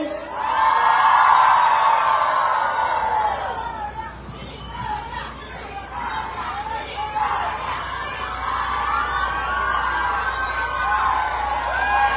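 A crowd at a live event in Jaén shouts and cheers loudly, a big swell of voices at the start, then a renewed roar of whoops and shouts that carries on to the end.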